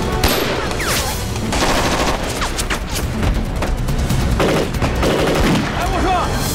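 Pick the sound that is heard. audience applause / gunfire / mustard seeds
gunfire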